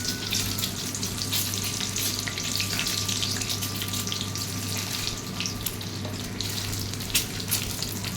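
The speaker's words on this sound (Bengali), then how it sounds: "এদিকে ডিম আমি 2 টুকরো করে রেখেছিলাম, এবার সেগুলোই আমি ভেজে নেব।" Halved boiled eggs fry in hot oil in a pan, giving a continuous close crackling sizzle with a faint steady hum underneath and occasional small pops, with no voices.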